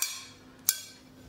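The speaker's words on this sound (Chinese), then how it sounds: "柠檬、蒜一定要给它拍开，让那个蒜入味儿" A cleaver smashes garlic cloves open on a board, with three sharp, close knocks spaced apart and quiet gaps between them.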